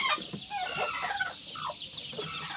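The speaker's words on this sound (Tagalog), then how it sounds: "So yung mga ibang sisiw natin." Mother hen clucking softly among her chicks, with short, close murmured clucks and thin chirping peeps layered over a low farmyard background.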